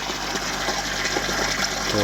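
Continuous, fairly loud rushing of water from a pump and siphon being set up on an upper aquaponics grow bed, a steady gush with no break.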